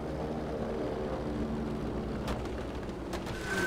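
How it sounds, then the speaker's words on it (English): Propeller aircraft drone in a Battlefield V dogfight, a small plane harrying a bomber, with a steady layered engine hum and a few sharp bursts of gunfire or impacts toward the end. "that small plane is attacking their bomber"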